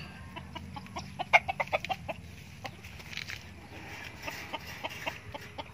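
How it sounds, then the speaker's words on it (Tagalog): A chicken clucking nearby in a short burst of sharp, rhythmic clucks, then quieter scattered calls against a soft outdoor background. "Manok."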